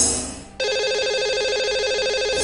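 A phone line ringing out as a radio show places a call to its lucky caller: a steady electronic ringback tone with a warbling pattern starts after a brief quiet moment and carries on loud and continuous.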